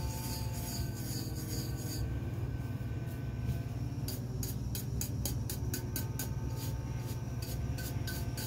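A vinyl decal is burnished onto a stainless steel tumbler with steady, faint rubbing and scraping strokes. The strokes turn into a run of short, regular rasps partway through.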